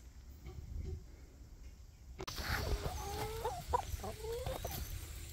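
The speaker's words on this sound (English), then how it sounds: "Here are my older golden comets chickens here." Older Golden Comet hens clucking softly on a farm, with a few short cluck phrases coming after a sudden rise in the background noise, close and low in level with no talking.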